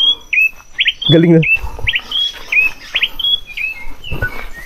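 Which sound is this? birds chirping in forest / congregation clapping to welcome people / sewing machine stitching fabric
birds chirping in forest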